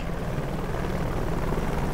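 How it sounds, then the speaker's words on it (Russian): Helicopter in the video game Dark Sector, a steady droning rotor and engine hum holding at an even level throughout, with no voices over it. "Кажется, я слышу вертолет."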